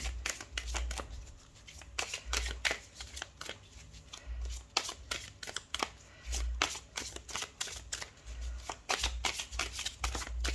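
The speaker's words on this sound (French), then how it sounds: "je tirerai 2 à 2 les cartes pour voir quelles cartes sont associées à ces domaines" Tarot cards being shuffled by hand during a reading, a steady run of close, crisp riffling and flicking bursts with soft slaps as cards are drawn, continuing throughout with no talking.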